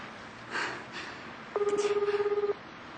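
A telephone rings in a Korean radio drama, a single short pulsing ring of about one second over a quiet background hiss.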